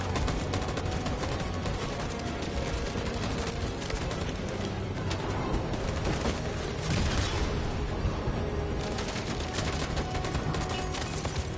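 Heavy, continuous gunfire in the video game Detroit: Become Human, a dense fusillade of shots that stays loud and constant for the whole stretch with no pauses.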